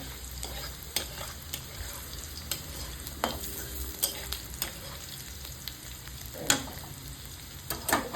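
Onion, garlic and bay leaf fry in a hot wok, a steady close sizzle broken by regular scraping clicks of a spatula stirring, with no voices.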